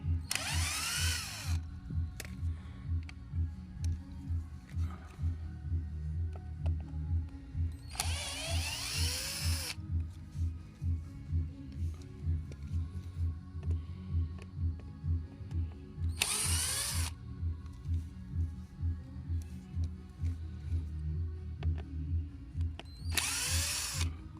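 A power drill drives screws in four separate loud whirring bursts spread over about twenty seconds, with a constant low mechanical hum underneath and no talking.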